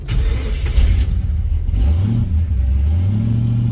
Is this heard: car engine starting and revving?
yes